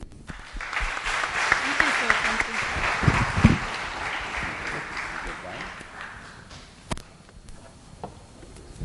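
Applause for the chief guest at a Singapore book launch swells into a dense wash of clapping, then thins and fades over several seconds, with scattered last claps near the end.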